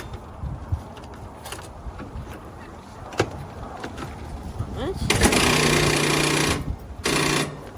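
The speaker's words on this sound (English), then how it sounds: "this lawnmower is dead. I can show you. I'm gonna crank it." A dead lawn mower engine cranks with repeated chugging bursts that sputter without catching, mixed with brief clatter and quiet outdoor noise.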